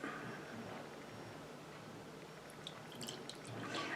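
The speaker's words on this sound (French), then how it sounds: "je prends mon verre et je le remplis d'eau" Water is poured into a drinking glass for candle making, a faint, steady rushing stream followed by a few light drips and splashes near the end.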